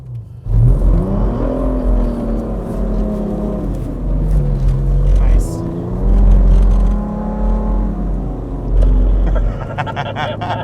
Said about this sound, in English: That was my first real mud crossing.